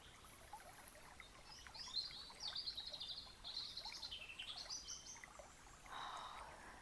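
Several birds chirp and trill outdoors in irregular bursts, fairly faint, over a steady soft wash of background noise.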